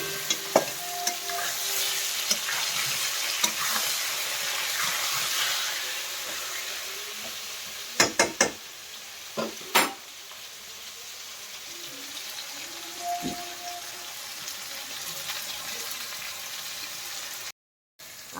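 Onions frying in oil in a home kitchen pan give a soft, steady sizzle, broken by a few clanks of stirring and a brief gap near the end.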